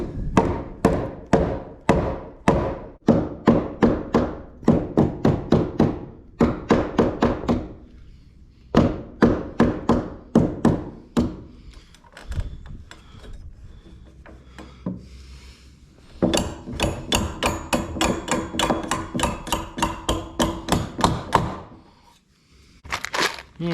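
Hammer pounding a barn floor joist back into place, a long run of rhythmic close thuds and knocks on wood, pausing briefly before resuming in fast repeated blows.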